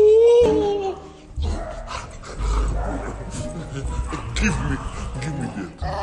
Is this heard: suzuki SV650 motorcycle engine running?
no